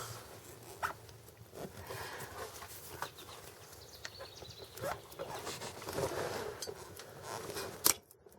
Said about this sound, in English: grab that clamp and rip it off